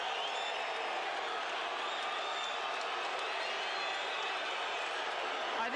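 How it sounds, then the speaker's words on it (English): A boxing arena crowd claps after a fight decision in Tijuana, Mexico. The applause forms a dense, steady wash of distant noise that fills the whole stretch, with faint cheers mixed in. "a lot of people are clapping here"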